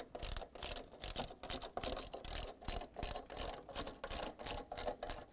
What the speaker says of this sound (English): Install the stator on and secure it using the 6 10 mm bolts and the socket wrench.